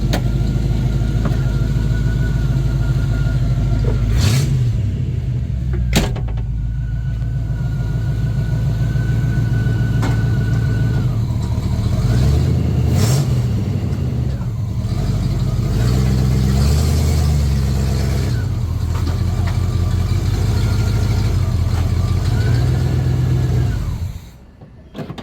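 The engine of a box Chevy Caprice wagon running steadily and loudly close by, with a few revs and rises in pitch, before cutting off at the very end with no talking.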